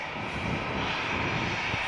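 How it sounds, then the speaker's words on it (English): Loud, steady roar of an airliner rotating and climbing out from Manchester Airport on a flight to Paris, a broad continuous rumble heard from nearby with no voices. "rotates and begins the climb out from Manchester to Paris"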